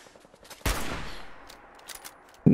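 Gunfire in the video game Fallout 4: a sharp shot cracks out, its echo trails off slowly, and a second loud blast follows at the very end.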